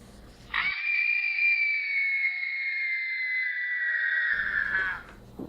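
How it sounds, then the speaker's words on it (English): Muted screaming of people rises suddenly and holds as one long, strained, wavering cry for about four seconds before cutting off, loud and alone with no talk. "We've now heard the screams of people realizing what the end is"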